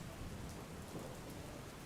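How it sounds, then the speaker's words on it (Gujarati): Steady early-morning rain in Ahmedabad pours down in a continuous hiss, fairly faint, with no voices and no breaks. "વહેલી સવારથી જ અમદાવાદમાં વરસાદી માહોલ છે"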